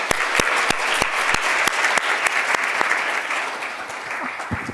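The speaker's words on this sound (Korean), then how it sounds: "대표에게 큰 박수 부탁드립니다" An audience at a political conference hall claps steadily, with dense, even applause and some sharper individual claps standing out. The sound holds at a constant level throughout, then thins slightly toward the end.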